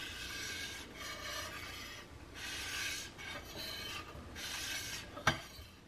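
Back of a pawn-shop hand plane blade honed on 1500-grit abrasive: steady, close rasping strokes back and forth in an even rhythm, about five passes, ending with a sharp click.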